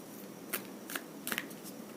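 Tarot cards being shuffled and drawn for a reading make a few faint, quick papery riffles and flicks, spaced irregularly over a quiet background.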